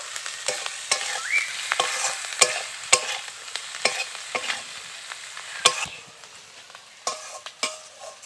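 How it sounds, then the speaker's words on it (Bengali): Potatoes fry with turmeric in a pan, a steady soft sizzle under repeated sharp scraping taps of a spatula stirring, close and clear with no talk. "1/2 চামচ মতো হলুদ গুঁড়ো দিয়ে দেবো। একটু নাড়াচাড়া করে নেব।"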